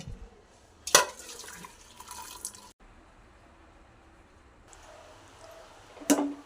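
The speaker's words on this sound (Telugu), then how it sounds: "వాటర్ వంపేసుకోవాలి." Water from boiled chickpeas is poured off out of a pressure cooker, with a splashy burst near the start, a longer trickling pour, then a quiet stretch and a final short splash.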